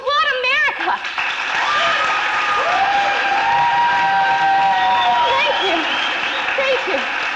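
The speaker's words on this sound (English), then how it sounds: "I ask you to put your hands together and applaud this year's Young American pageant" Sustained applause and crowd noise from an audience at a Young American pageant in a stage musical, cheering the young girls, with whoops and voices riding over the dense clapping throughout.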